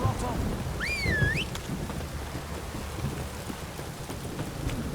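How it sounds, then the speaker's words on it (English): Heavy rain and rumbling thunder in The Witcher 3, a dense, continuous downpour with low thunder rolling underneath; a brief rising whistle-like tone cuts through early on, and the storm stays loud and steady throughout. "If it don't stop raining, my arse will rot off."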